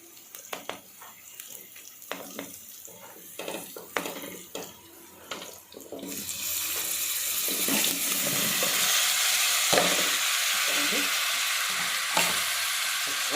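Drumsticks and tomatoes hit hot oil in a pan for a drumstick and tomato curry. After some light clattering, a loud, steady sizzle starts and continues close up for several seconds. No one talks.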